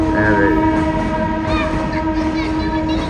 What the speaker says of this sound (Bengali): ট্রেনের সকালের সাউন্ড মাশাআল্লাহ দারুণ না